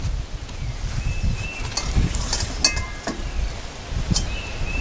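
Low rumbling wind buffeting outdoors in a yard with leaves rustling, plus faint birds chirping in the background and a few light clinks from assembling a Weber Smokey Joe grill.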